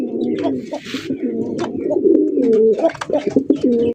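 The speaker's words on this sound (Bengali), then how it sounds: "কবুতর এখানে রয়েছে দুই রকমের কবুতর।" Fancy pigeons kept for sale coo in a loft, with several overlapping low, throaty coos repeating close by, plus a brief flutter near the start.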